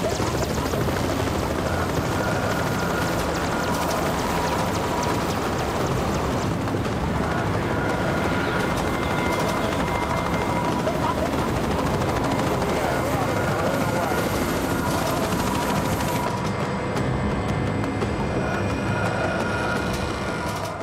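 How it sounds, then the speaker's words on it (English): A Merlin helicopter's engines and rotors run with a loud, steady roar and rhythmic thrum as it is readied for takeoff, continuous and close throughout. "The Merlin helicopter is being prepared for takeoff"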